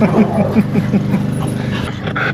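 Two dogs panting rapidly in a quick rhythm with small whimpers and yips, close by, playing together.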